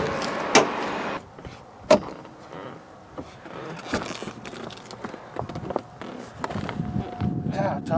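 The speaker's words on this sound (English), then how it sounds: "Yeah, top down, windows up." Power windows of a Mazda Miata with the top down, heard as a motor whir under idling car noise, with a couple of sharp clunks early on and a voice talking over part of it.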